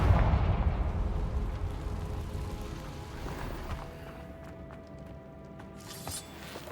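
Repeated Confringo spell blasts in Hogwarts Legacy, a loud rumbling explosive burst at the start that decays into lingering crackle and hum, with a fainter sparkling burst near the end.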